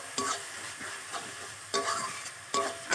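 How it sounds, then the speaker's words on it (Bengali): Ginger, turmeric powder and chili powder frying in a pan: a continuous crackling sizzle with three bursts of spatula scraping and stirring, close and fairly loud, no voices. "আদা, হলুদ গুঁড়ো, লঙ্কা গুঁড়ো, মশলাটা আমি ভালো করে কষে নেবো একটু।"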